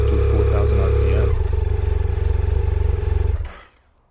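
A motorcycle fitted with a Two Brothers M2 carbon fiber exhaust canister revs to about 4,000 RPM. It starts with a loud, steady roar and eases back to a fluttering, throbbing run, then cuts off abruptly to near silence.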